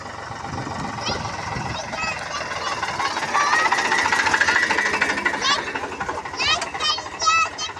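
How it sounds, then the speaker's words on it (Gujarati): A farm tractor arrives with its diesel engine chugging in a steady, knocking rhythm that grows louder, partly masked by children's voices and lively chatter nearby. "મારા ભાઈ આવે છે હવે ટ્રેક્ટર લઈને"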